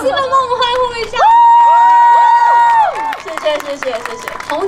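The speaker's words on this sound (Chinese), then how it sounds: "粉丝们帮我们欢呼一下" Fans cheering at a film premiere in Kaohsiung, a crowd letting out a loud, sustained collective shout and scattered clapping, with voices talking over it before and after.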